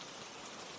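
Steady rain falls, an even dense hiss of drops on surfaces that stays at the same level throughout, with no voices.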